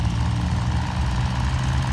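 A John Deere tractor engine idles steadily with a deep, continuous low rumble, loud and close, with no talking.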